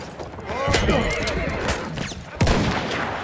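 A horse neighs loudly up close in Battlefield 1, its whinny rising and wavering, amid hoof clatter and sharp gunshot bangs in a noisy game scene.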